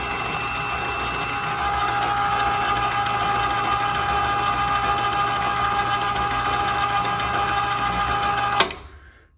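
The electric motor of a remote-controlled garage car lift runs with a steady, loud mechanical whir and hum that ramps up in the first couple of seconds, holds, then cuts off abruptly near the end.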